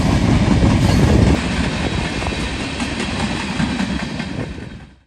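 A long freight train pulled by Norfolk Southern locomotives, about 2.5 miles of rolling stock, rumbles past close by in a loud continuous roar of wheels and cars that fades out at the end.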